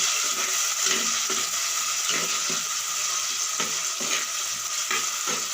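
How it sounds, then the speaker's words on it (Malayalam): Tomato and fresh water are stirred briskly in hot oil for a sardine curry, giving a steady loud sizzle with repeated scraping clicks from the stirring. "അങ്ങനെ തക്കാളി പച്ചവെള്ളം എണ്ണയില കിടന്ന് നല്ല വേഗം ജസ്റ്റ് ഒന്ന് കൊടുക്കാം"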